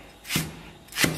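Scallions being cut into short pieces with a knife on a board, two crisp rasping strokes about half a second apart, each ending in a soft thud, close and clear with no talking.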